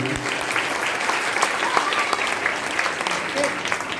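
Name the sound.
audience applause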